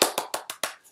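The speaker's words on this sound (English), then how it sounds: "it is a round of applause for you" A person claps hands five times in a quick, even burst, close and crisp, with nothing else around it.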